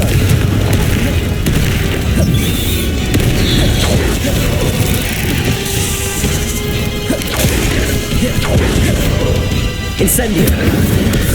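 Spell explosions in Hogwarts Legacy burst in quick succession, with booming blasts, crashes and sharp magical whooshes layered densely and loudly throughout, under someone calling out spell names.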